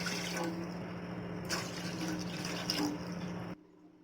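Two glasses of water pour steadily into a cooking pot for a few seconds, then stop abruptly.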